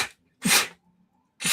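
A person sneezes loudly and close up, a short burst at the start, a full sharp sneeze, then another after a pause, with silence between them.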